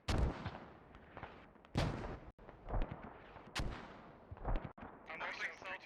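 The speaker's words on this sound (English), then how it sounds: "Mortar audio from there." Mortar fire in the Squad video game during a competitive match, with repeated heavy booming blasts and impacts at irregular intervals, some close and some distant, amid battlefield noise.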